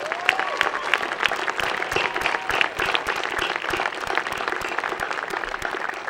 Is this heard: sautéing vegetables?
no